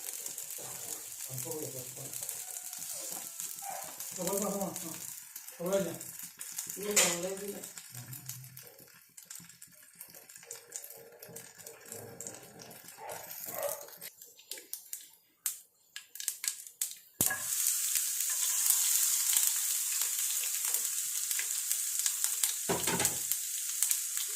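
Mustard seeds crackle and sizzle in hot oil for a chickpea curry, with someone talking over the stirring at first and a dense, steady spluttering hiss taking over for the second half.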